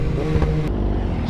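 Suzuki GSX-R1000 sport motorcycle with an aftermarket Brock's exhaust at a car meet, a brief loud close rev that cuts off sharply partway through.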